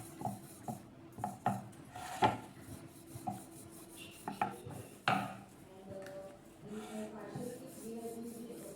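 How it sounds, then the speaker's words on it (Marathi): Shankarpali dough, for the crisp Maharashtrian snack khare shankarpale, rolled out evenly with a rolling pin: soft repeated rubbing and thudding strokes against a board, close and moderately quiet. "याला आता आपण लाटून घेणार आहोत। एकसार असं सगळीकडून लाटून घ्यायचे।"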